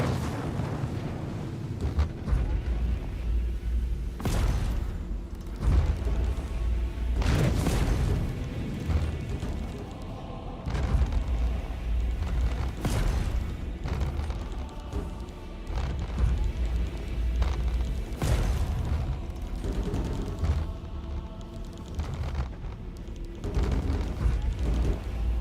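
Cannon fire in the Star Citizen video game booms out at slow, regular intervals, each heavy thud standing out over a constant dense rumble of ship and combat noise.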